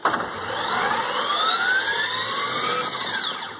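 A propeller motor revs up under an acceleration limiter in a high whine. Its pitch climbs smoothly for about three seconds and then drops off, loud and close, with no talk.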